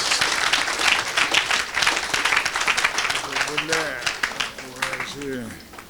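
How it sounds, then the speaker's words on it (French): A church congregation applauding, a dense, loud wash of clapping that continues steadily and thins slightly toward the end, with voices speaking and calling out over it. "Acclamez Jésus."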